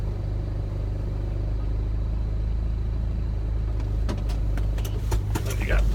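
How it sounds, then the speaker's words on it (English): A car idles and creeps slowly while manoeuvring into a very small parking space, a steady low engine rumble throughout with a few clicks and knocks near the end, and a person talking over it. "That's me getting into a space, a very, very small space that I really shouldn't have attempted, but I did."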